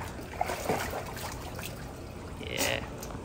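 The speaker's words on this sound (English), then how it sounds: "The splash. The splash. The splash." A dog splashes and paddles in water, giving a steady trickling, sloshing wash with a brief louder surge of splashing near the end, close by.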